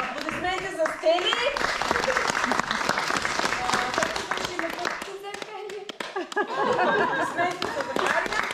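Enthusiastic crowd applause fills a hall after a children's theatre school show, continuous clapping with a speaking voice and some chatter mixed in, dipping briefly before swelling again.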